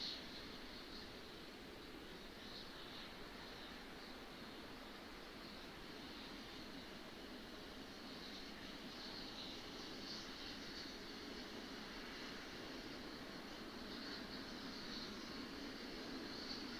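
An aircraft touching down at Washington Dulles International Airport, heard as a steady, unbroken broadband roar that holds at an even level throughout, with no other distinct events.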